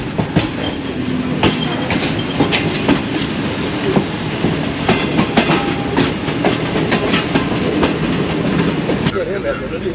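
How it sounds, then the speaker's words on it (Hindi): A passenger train on the Lahore to Gujranwala run, Pakistan's Subak Kharam service, rolls into Gujranwala railway station, heard from on board as a steady loud rumble with clickety-clack wheel beats and occasional squeals, voices faintly mixed in. "इस वक्त गुजरांवाला रेलवे स्टेशन हमारी ट्रेन एंटर हो रही है"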